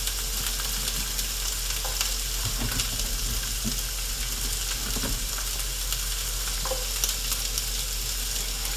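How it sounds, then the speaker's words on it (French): Onions sizzle steadily in a very hot frying pan, a dense, loud crackling hiss that runs unbroken throughout, with occasional faint clinks of stirring and no voices. "Et je vais verser les oignons. On va entendre le bruit caractéristique, je crois. La poêle est bien chaude."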